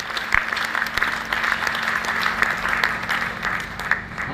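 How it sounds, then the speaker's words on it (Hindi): A hall audience at a jayanti celebration in Meerut Cantt breaks into vigorous applause, steady dense clapping heard close and loud for the whole stretch, with no speech over it. "एक बार मिलकर जोरदार तालियां बजाए पूरा सदन में"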